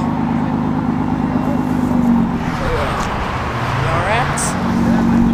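A Nissan GT-R engine rumbles in a steady low drone beneath street traffic, holding a constant level with a slight rise and fall, while people talk nearby over the car sound.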